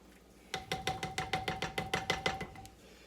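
Beef tips with black pepper are stirred in a crockpot base, giving about a dozen quick, evenly spaced scraping knocks of a utensil against the pot, close and rhythmic, with no talking.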